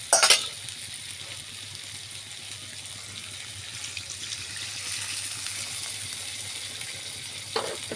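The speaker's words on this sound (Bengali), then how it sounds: "আমরা এখন পরিমাণ মতো পানি দিব" Water splashes into a hot frying pan of fried pointed gourd and potatoes and settles into a steady hiss and sizzle, with a brief clatter at the start and another near the end.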